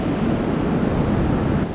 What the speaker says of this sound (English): This is my kind of beach.